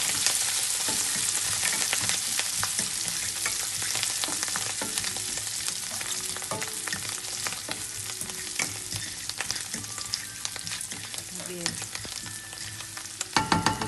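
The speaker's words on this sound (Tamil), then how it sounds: "வெங்காயம் வதங்கிட்டு இருக்கப்போ அந்த எண்ணெயிலேயே கொத்தமல்லி தழை கொஞ்சம் தூவி விட்டிங்கன்னா" Onions sauté in oil with coriander leaves scattered in, sizzling steadily up close while a spoon stirs and scrapes the pan with frequent clinks, no talking over it.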